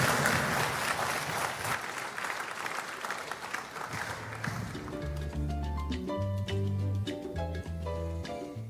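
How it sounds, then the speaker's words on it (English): Applause at the launch of Ghana's national AI strategy, a dense, loud wash of clapping from a large audience that gives way partway through to steady music playing under it. "Please welcome him with a round of applause."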